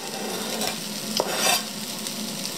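Onions and garlic frying in a pot for onion soup, a steady close sizzle with a utensil scraping and stirring across the bottom; no speech.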